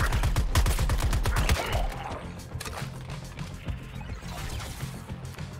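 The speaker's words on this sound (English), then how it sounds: "So you can no-scope the sniper rifle." Sniper rifle fire and impact crashes in the video game Suicide Squad: Kill The Justice League, with a rapid volley of loud, sharp reports at first, then scattered cracks and clatter continuing over game sound.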